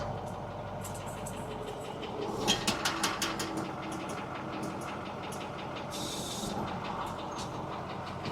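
The chain on a cheap spreader truck runs with a steady low mechanical rumble and clanking, a run of sharp metallic ticks about midway, and a brief hiss near the end, fairly quiet throughout.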